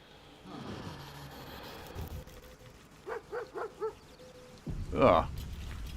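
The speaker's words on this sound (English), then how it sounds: "I heard a dog barking." Dog barks in the Baldur's Gate 3 video game, a short run of four quick barks midway followed by a louder bark or yelp, heard over game ambience with some low talk-like sound.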